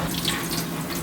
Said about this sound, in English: We have to wash the rice